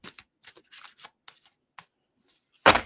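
Oracle cards riffle and slap together in a few quick, close shuffling bursts, ending with one sharper, louder flick.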